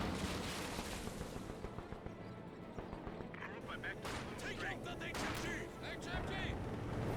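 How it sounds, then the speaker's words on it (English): Incendiary artillery barrage in Company of Heroes 2, with repeated heavy booms and crackling impacts rolling through dense battle noise while a commentator talks over the fighting throughout. "Got the incendiary barrage there."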